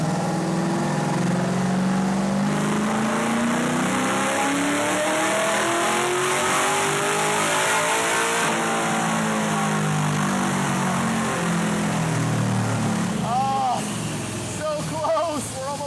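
A tuned Cobra car's engine revs hard during a test run, loud and sustained, with rising and falling pitch sweeps as it accelerates, and brief higher squeals near the end.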